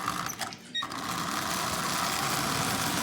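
Marx Commodore Vanderbilt toy train, converted from wind-up to a new electric motor, running close by with a fast whirring, buzzing motor drone after a brief clatter at the start.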